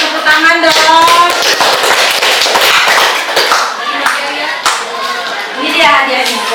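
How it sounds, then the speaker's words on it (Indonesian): A school class claps hands in an uneven, lively patter of sharp slaps that carries on for several seconds, close and fairly loud, with children's voices chattering underneath. "Boleh, tepuk tangan dong."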